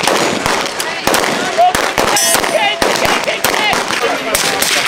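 Rapid pistol and rifle gunfire strikes inflatable chicken targets at a range, a dense, loud string of sharp cracks with almost no pauses, mixed with faint voices.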